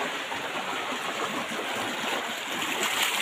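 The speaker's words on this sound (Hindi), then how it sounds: "एक वहाँ से भी पानी आ रहा है" Clean, cold mountain water flowing in a small stream near Ziarat outside Quetta, a steady close rushing and gurgling that stays even throughout.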